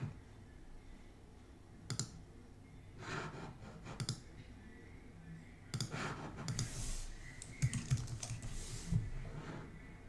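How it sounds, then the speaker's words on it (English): Computer keyboard being typed on during a Photoshop editing session, with bursts of close key clicks separated by short pauses, plus a faint breath or sigh and no speech. "See, again, I'm just typing."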